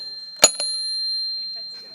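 Hand bell rung on stage at a chamber of commerce breakfast, giving two quick bright strikes with a steady ringing tone that lingers afterward.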